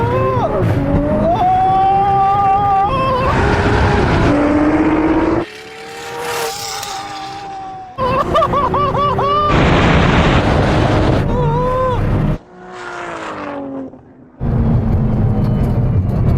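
Tuned Nissan GT-Rs of 650 to 1600 horsepower launch in a quarter-mile drag race, close engines roaring loudly with rising revs and sharp shifts, the sound broken by brief drops and distant passes.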